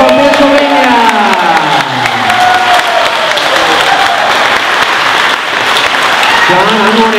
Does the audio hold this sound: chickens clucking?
no